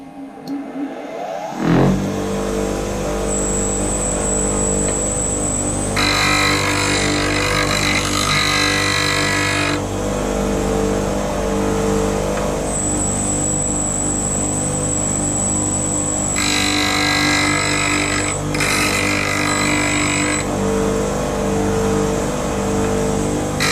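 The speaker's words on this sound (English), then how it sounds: "I'll get my jig onto this grinder and we'll take it slowly" A bench grinder runs loud and steady as an old chisel is sharpened in a jig, its motor hum broken by several long bursts of bright, hissing grinding where the steel meets the wheel.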